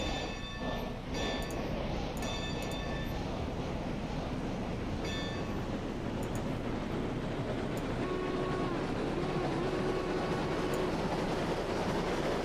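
A train reversing slowly in the Railroads Online game gives a steady, loud rumble of rail cars. Faint tonal squeals and whistle-like notes run over the continuous noise, and no one speaks.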